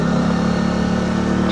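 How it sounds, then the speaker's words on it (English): A 2018 Honda CB125R 125cc motorbike on its stock exhaust, engine running with a steady, loud, close hum at an even pitch throughout, with no talk. "It doesn't sound too bad for a stock exhaust, like I say."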